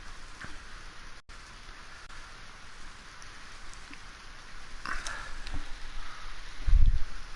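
Continuous rainfall hisses in the background, steady and moderate, with a few scattered louder drips and a brief low thump near the end.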